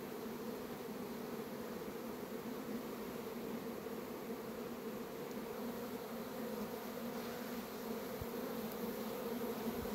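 Honey bees swarm around their hives in a steady, dense buzzing drone, faint but unbroken, with no voices over it.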